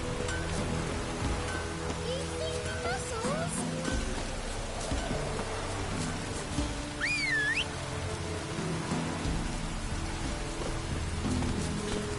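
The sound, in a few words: rain falling in the video game The Witcher 3: Wild Hunt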